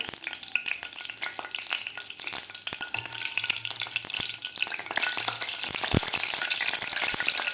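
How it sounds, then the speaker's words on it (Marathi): Half a spoon of mustard seeds spluttering in hot oil in a pan, a dense close sizzle peppered with rapid popping crackles that build slightly toward the end, with no talk. "तेल आपलं गरम झालेलं आहे, यामध्ये घालायचं आपल्याला अर्धा चमचा मोहरी। मोहरी आपल्याला व्यवस्थित फुलू द्यायची आहे"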